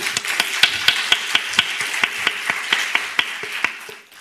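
Sharp, close claps land in a steady, even beat, about four per second, for roughly four seconds as a forum on Indo-Pacific security closes, then fade away at the end.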